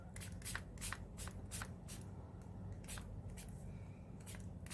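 Ink spray misted onto an art journal page in quick, soft, hissing bursts, about a dozen faint puffs in a loose irregular rhythm.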